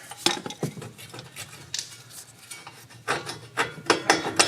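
Metal tool tapping on the upper bolt of a Mazda 6 front strut assembly to drive it out: a short series of sharp, close metallic clinks and scrapes at irregular intervals, with no voices.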